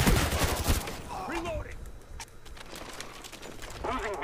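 A short loud burst of automatic gunfire in Call of Duty: Black Ops opens the clip and gives way to quieter in-game sounds, with voices talking and some faint shots later.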